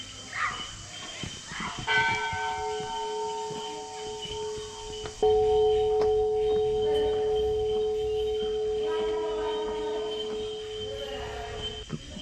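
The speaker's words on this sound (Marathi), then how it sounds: "एक भली मोठी घंटा आपण इथे बघू शकता आणि हिचा आवाज हा खूप वेळपर्यंत इथे घुमतो" A large temple bell at Pisarnath temple near Charlotte Lake, Matheran, rings out clear and close, two strikes whose long sustained tones hum and linger, with faint background ambience.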